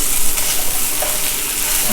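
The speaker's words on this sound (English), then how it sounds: "And just fry this two together." Chopped chili peppers frying and being stirred in a pan, a steady loud sizzle with scraping stirs throughout, no talking.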